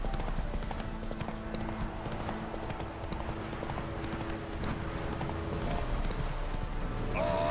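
Geralt's horse Roach clip-clopping along in The Witcher 3: Wild Hunt, a steady rhythmic hoofbeat at moderate distance over continuous game ambience and a low background drone.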